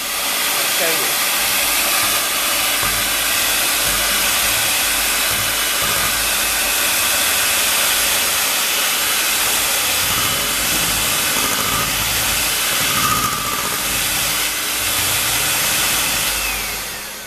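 An electric mixer whips egg whites toward a froth, a steady loud motor whir with a bright airy whine that holds level throughout with no pauses.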